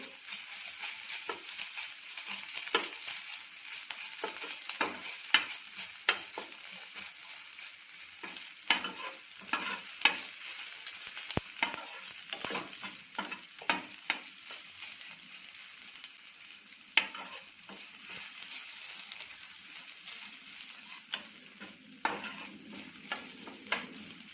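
Onions, green chillies, capsicum and ginger garlic paste fry in oil for masala pav, with a steady sizzle and frequent scraping stirs of a spoon against the pan, close and continuous without talk.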